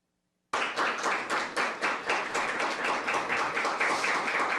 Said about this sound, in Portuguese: apenas a senhora foi rigorosamente aplaudida por todos os senadores nesta Comissão de Segurança Pública por suas palavras